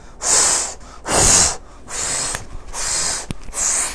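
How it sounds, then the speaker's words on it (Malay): Four strong, breathy bursts of air forced out through the nose, evenly spaced with short pauses, loud and close with a hissy edge. "Hembus nafas."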